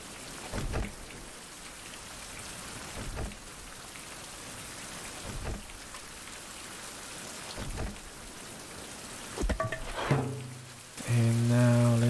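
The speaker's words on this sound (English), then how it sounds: "Finally, we're getting some rain while we're home." Steady rain falls and patters on surfaces outdoors around a home, a fairly quiet continuous hiss broken by occasional louder drips or knocks, with a short tonal burst near the end.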